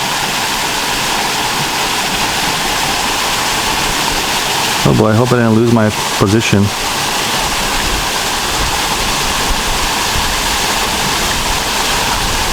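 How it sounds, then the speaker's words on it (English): Steady loud rush of a waterfall heard from an underwater ROV positioned beneath it on a ledge, a continuous broadband roar with someone talking briefly over it partway through. "I'm right underneath the waterfall on that ledge."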